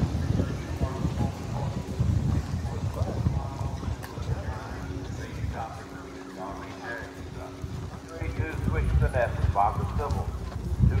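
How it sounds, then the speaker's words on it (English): Tennessee Walking Horse hooves clip-clop steadily on ground as horses move past at a horse show, with crowd talk and an announcer's voice underneath throughout. "we are at a Tennessee Walking Horse Show."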